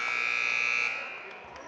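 Basketball game buzzer sounding at the end of the third quarter in a high school game between Emporia and Topeka High, a loud steady electronic tone held for about a second before fading into gym noise.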